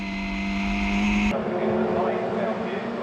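Historic Formula Ford race cars roar at Oulton Park, a sustained engine drone that cuts off abruptly midway into a denser swarm of passing car noise, with a commentator talking over it.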